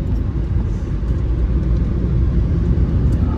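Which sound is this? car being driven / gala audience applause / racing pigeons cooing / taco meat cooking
car being driven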